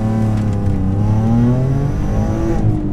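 Alfa Romeo 147 GTA with its Busso V6 accelerating hard, a loud, continuous rising engine note with clear harmonics that climbs steadily through the revs, heard from inside the car.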